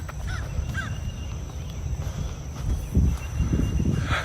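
Crows caw a few times at a distance over a steady, loud outdoor rumble of traffic or wind, the calls faint and brief early on.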